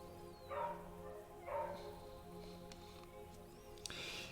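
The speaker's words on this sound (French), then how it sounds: "Il y a un chien qui aboie dehors." A dog barks outdoors at a distance, two short muffled bursts about a second apart, faint behind a steady indoor hum and light background noise.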